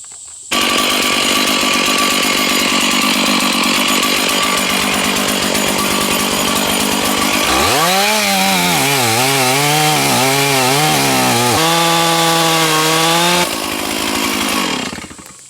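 A chainsaw roars steadily through a thick, hollow white oak log at close range, loud and sustained, then the engine pitch swoops and wavers as the cut changes before it eases off near the end.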